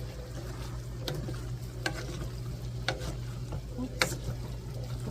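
Stuffed shells filling stirred in a pot on the stove, soft scraping strokes every second or so over a constant low sizzle and bubbling, close and quiet.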